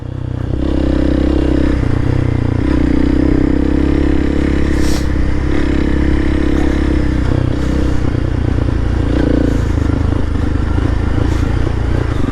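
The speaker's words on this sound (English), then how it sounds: "it's definitely louder, this bike" Honda CRF300L Rally motorcycle with an upgraded exhaust under way, a loud, close, continuous engine drone that rises and falls with throttle changes, along with wind and mechanical clatter.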